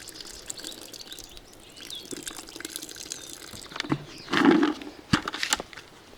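Water poured into a fishing bait mix for a feeder, a quiet trickle and splashing that builds into a short, louder pour near the end, followed by a few sharp clicks and taps.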